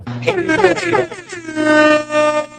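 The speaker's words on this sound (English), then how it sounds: "Want another air horn?" A loud, blaring air horn sounds in sustained, wavering blasts, close and piercing, filling the clip with a harsh brassy tone.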